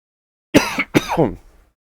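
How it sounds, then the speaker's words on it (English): A close throat-clearing cough in two quick bursts, loud and abrupt against silence. "sorry, a little bit of a cough there."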